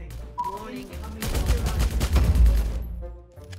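Loud bursts of automatic gunfire crackle in the mobile shooter Omega Legends, a sustained rapid volley swelling in the middle and fading out, with brief voices and game sounds around it.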